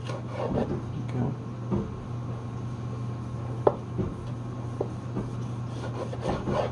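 A knife draws repeatedly through a smoked sirloin tip, cutting thin slices against the grain with soft rubbing, rasping strokes and a few sharp taps on a wooden board, close and moderately quiet over a steady low hum.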